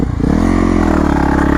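Yamaha 450 YZF supermoto running on slick tyres, its single-cylinder engine loud and close, with a steady harmonic drone that rises slightly after a brief dip at the start, alone without talk.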